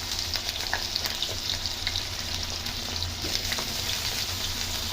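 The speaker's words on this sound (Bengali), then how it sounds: "তেলটা গরম হয়ে গেলে তেলের মধ্যে আমি বেগুনটা ভেজে নেবো আগে" Cut eggplant pieces frying in hot mustard oil in a kadai, giving a steady, loud sizzle and crackle close to the pan with small pops throughout and no talking.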